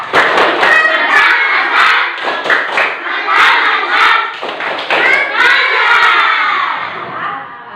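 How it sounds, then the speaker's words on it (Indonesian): Schoolchildren in a classroom perform a tepuk mantap clapping chant, loud rhythmic claps in a clear pattern mixed with shouted chanting voices, close and energetic throughout. "Coba kita kasih tepuk mantap, tepuk mantap."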